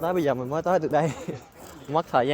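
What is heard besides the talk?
No distinct noise like a dog, phone or traffic.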